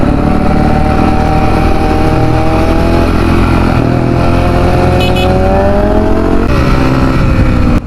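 Several motorcycles and a Corvette roar past on a road, loud and close, engines droning and rising in pitch as they accelerate, with no talk over them.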